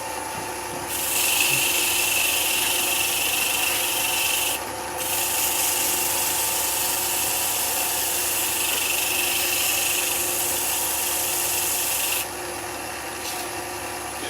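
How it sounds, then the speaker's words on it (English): Sanding with 50 grit abrasive on an offset pendant workpiece, a steady loud rasping rub running almost continuously, with short pauses and changes in intensity between strokes. "we'll give that a sand. So again, same abrasive,"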